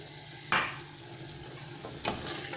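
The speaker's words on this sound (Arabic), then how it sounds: "نحرك مليح ونخلي الدجاج تاني يزيد يتقلى شويه مع هذه التوابل" A spoon scrapes and stirs chicken frying with ginger and spices in a tagine, with two distinct clanks against the pot over a low, steady sizzle.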